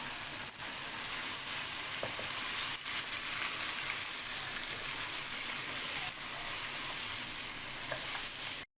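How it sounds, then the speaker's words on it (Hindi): Boiled mutton hits a hot pot for mutton yakhni pulao, setting off a loud, steady hiss of frying that holds for several seconds along with faint stirring scrapes, with no voices. "अब मैं इसके अंदर ये सारा जो हमारा मटन है बॉईल किया हुआ वो मैं इसके अंदर ऐड कर दूंगी"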